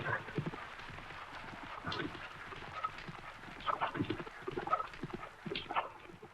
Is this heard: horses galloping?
yes